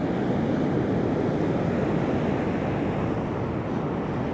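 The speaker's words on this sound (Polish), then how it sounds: "I szalejący ocean." Rough ocean surf on a wide, long beach near a river mouth, a dense continuous roar of breaking waves mixed with wind buffeting the microphone, loud and steady throughout.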